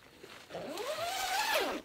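A tent door zipper on a NatureHike Bear UL2 ultralight summer camping tent is pulled in one smooth, continuous stroke, rising in pitch as it runs, close and clear.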